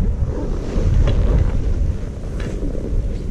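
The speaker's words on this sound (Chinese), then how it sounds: "那大风吹上来" Strong wind blows across a ski slope at Manza Onsen in Japan, buffeting the microphone with a steady, rumbling roar that swells and eases for several seconds.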